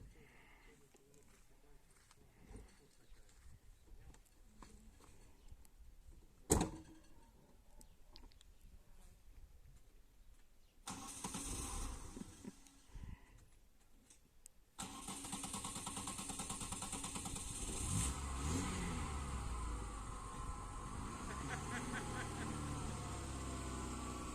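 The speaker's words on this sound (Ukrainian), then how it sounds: "Не хоче Анжелин мопед заводитися." A moped engine is cranked repeatedly with failed starting attempts, then catches and runs steadily, while people talk outdoors on a farm.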